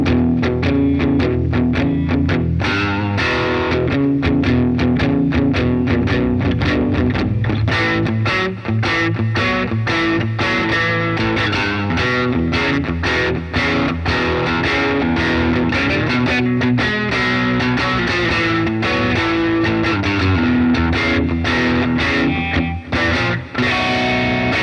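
An electric guitar plays a standard blues progression through a Bias FX 2 Easy Blues preset with tweed amps, delay and reverb, loud and continuous with lightly driven, ringing chords and notes.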